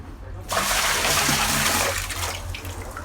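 Water from a Juny automatic faucet gushes and overflows, splashing loudly. A steady, close rush starts abruptly after a brief pause and tapers slightly toward the end.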